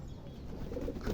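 Pigeons in a home loft coo steadily close by, a low continuous murmur of several birds with no talking.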